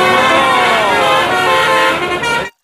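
A toy telolet bus horn sounds a loud, steady multi-tone melodic honk lasting over two seconds before cutting off abruptly, close to the microphone.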